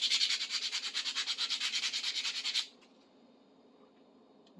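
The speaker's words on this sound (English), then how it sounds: "A little bit of sandpaper" Sandpaper scrubs back and forth on a metal tubing cutter in quick, even strokes, a close, rhythmic scratchy rasp for about two and a half seconds that then stops, leaving near silence.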